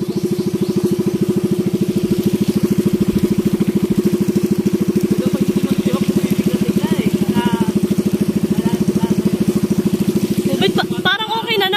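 Outboard engine of a new outrigger bangka being broken in runs steadily and loud throughout, a strong continuous drone with a chugging pulse, close up, with faint voices in the background.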